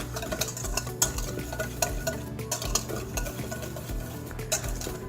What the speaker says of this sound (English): use a whisk or a fork to make sure it all gets mixed in properly